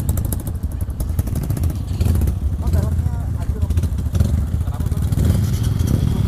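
Yamaha WR155 and Honda CRF150 dirt bikes climbing an uphill track, engines buzzing and revving with clattering under loud shouting voices throughout.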